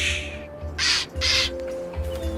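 A wooden bird in the video game Return to Monkey Island lets out several harsh, loud crow-like squawks in quick succession over a low game soundtrack hum.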